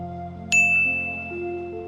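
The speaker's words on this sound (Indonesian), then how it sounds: "Tiba-tiba ada telepon masuk." A single bright electronic ding from an incoming phone call cuts in sharply, its tone lingering and fading over a steady low musical background.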